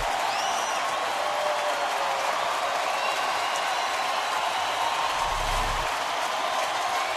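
Baseball crowd in the 9th inning of a tight 1-0 game, a faint, distant, continuous wash of cheering and applause from the stands that stays steady throughout, with no distinct voices.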